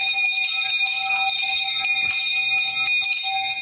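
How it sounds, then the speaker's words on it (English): A hand bell is rung repeatedly at a live telethon event, giving bright metallic clangs with sustained ringing overtones and a quick irregular rhythm, loud and close with no talking. "I need to ring the bell."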